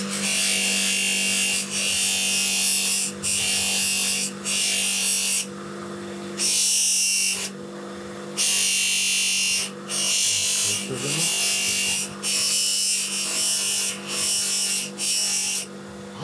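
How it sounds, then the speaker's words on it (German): Power tool polishing screws for a rebuilt Harley-Davidson Ironhead Sportster engine, a loud steady whirring grind running in repeated bursts of a second or two, separated by brief pauses. "Mach die Schrauben blank."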